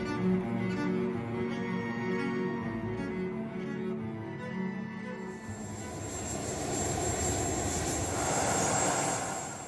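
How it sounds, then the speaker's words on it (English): Engines of an RAF C-17 military transport jet departing Edinburgh, a steady loud roar that swells and brightens toward the end as the aircraft powers away, with no voices. "Her coffin departs Edinburgh in an RAF C-17 for the last time."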